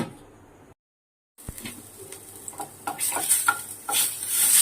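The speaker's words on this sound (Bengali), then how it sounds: "একটু ডালটা সাঁতলে নেব।" Lentils sautéing in hot oil in a wok, a sizzle that builds after a short silence, with a clatter of utensils and stirring scrapes close by.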